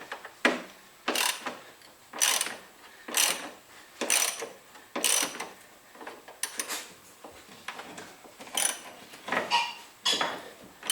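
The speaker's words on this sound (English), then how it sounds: "Get a little more power with just larger 1/2-inch ratchet." A 1/2-inch ratchet loosens a front shock bolt on a 2010 Mazda3, giving a steady series of quick metallic clicking pulls, roughly one a second, close up, with no voices.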